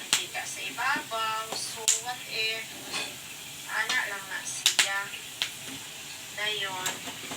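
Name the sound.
peanuts frying in oil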